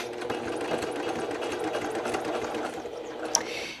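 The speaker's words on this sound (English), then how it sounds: "So I'm gonna hold that in place and come to my machine. I am going to back stitch on either side here." Sewing machine back stitching fabric on a boxy makeup bag, a steady close whirring run of the needle that holds even throughout, with a brief click near the end.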